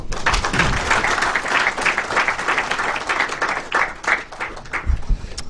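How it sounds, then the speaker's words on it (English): Attendees at a two-day SCADA/EMS and telecoms workshop applaud, a moderately loud, fluttering spell of clapping with uneven swells that carries on for several seconds and tapers toward the end. "A round of applause for him again, please"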